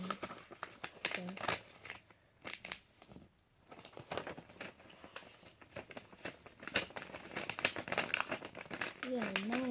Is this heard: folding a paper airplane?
yes